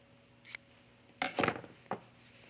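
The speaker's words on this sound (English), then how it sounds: "I'm just gonna snip that corner." Scissors snip the corner of a fabric tunic collar during sewing, giving a couple of short, close crisp cuts with a slight metallic clink and no talk over them.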